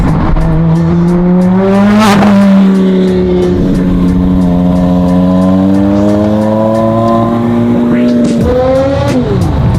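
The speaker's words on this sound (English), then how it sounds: "Bro, your brakes are squealing." A loud, sustained high-pitched squeal with wavering tones runs under an idling, revving car engine, with a sharp burst near the middle and another rise toward the end.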